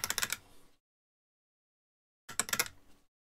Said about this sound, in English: I'm just rattling the brush off